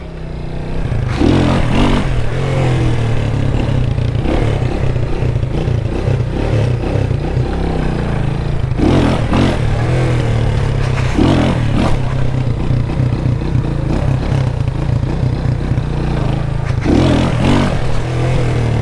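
A motorcycle engine runs loud and close during first-week wheelie practice in Jamaica, droning steadily while surging revs and clattering bursts recur every few seconds.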